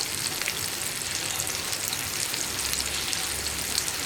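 Spice powders, coriander powder and chicken masala, frying in oil in a pan while being stirred for potato masala: a steady, dense sizzle with faint low scraping underneath, continuous and close, no voices.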